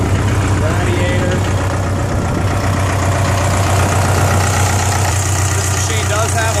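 A Komatsu PC60-7 excavator's diesel engine idles close by, a loud, steady low rumble with a slight knocking pulse, while someone talks over it.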